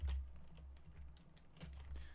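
Keyboard typing during a live stream, a quick, soft run of key clicks over a low background hum, with no voices.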